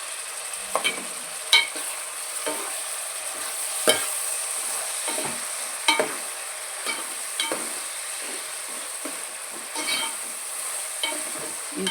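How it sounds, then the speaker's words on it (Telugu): Dried anchovies, washed in hot water, frying in oil for an eggplant curry, giving a steady hissing sizzle with repeated spatula scrapes and taps at irregular intervals, close and continuous with no talking. "ఇవి ఎండు నత్తళ్ళు నీట్గా కడిగి పెట్టుకున్నాను, ఇవి వేసుకుందాం. ఇవి ఆయిల్లో వేగాలి."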